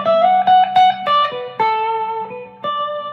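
Electric guitar picks out a short phrase of a few notes built on a major third, some pairs ringing together, with a slightly driven tone and clear attacks, close and loud.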